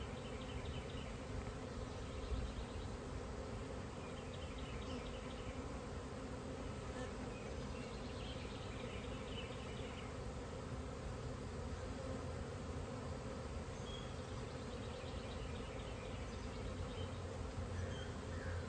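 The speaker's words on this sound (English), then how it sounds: "these bees are already a little grumpy" A swarm of honey bees buzzes continuously at an apiary, a dense, steady hum that stays at an even level with no voices over it.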